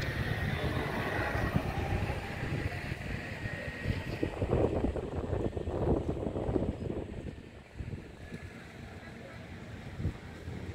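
Steady, heavy wind buffets the microphone with a constant low rumble, easing slightly toward the end.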